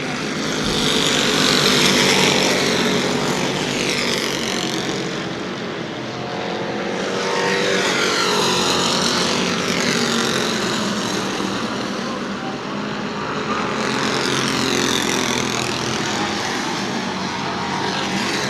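Super stock race cars circle New Smyrna Speedway, a steady loud engine roar swelling and fading in waves as the pack passes, with no talk over it.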